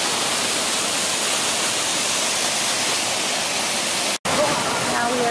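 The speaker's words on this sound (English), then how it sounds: "Now we are visiting our third waterfall." A tall waterfall in the Columbia River Gorge roars as a loud, steady broadband rush, close and continuous, broken only by a momentary dropout near the end, with a voice faintly surfacing afterward.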